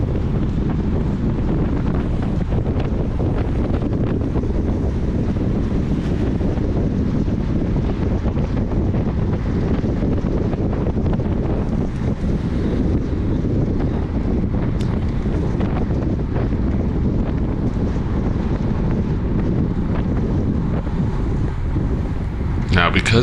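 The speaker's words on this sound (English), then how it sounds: "that wind is coming at our face and here on the hill it's about to come at a crosswind" Strong wind buffets the microphone of a cyclist riding a Cat 4/5 spring road race, a loud, constant roar that masks other sounds throughout.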